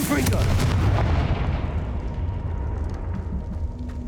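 A Confringo blasting-curse explosion in Hogwarts Legacy, a loud, close boom at the start that settles into a long rumbling, crackling decay, with no talking over it.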